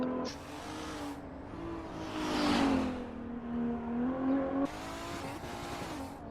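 A race car at the SRA 2024 Race of Champions drives with a tonal engine that rises and falls through gear shifts and revs, fairly close, with brief gaps between pulls.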